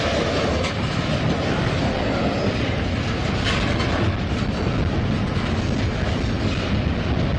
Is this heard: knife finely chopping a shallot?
no